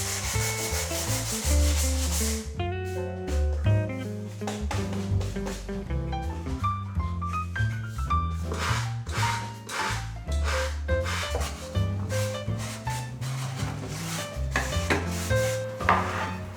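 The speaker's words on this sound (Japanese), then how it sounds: "最後に角にペーパーを当てて丸くしておきます。" Sandpaper rubbed over the corners of a drawer unit to round them off, giving repeated scraping strokes under steady background music.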